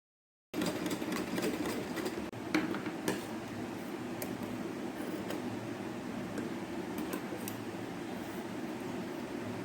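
A sewing machine stitches a net blouse sleeve, its steady whirring motor running without a break after a short silence, with faint clicks and taps over the hum.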